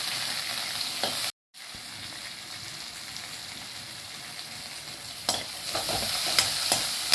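Onions and curry leaves stirred and sautéed in a pan for a Tamil squid gravy, giving a steady close sizzle with a spoon scraping through, one brief gap, then louder stirring clatter toward the end.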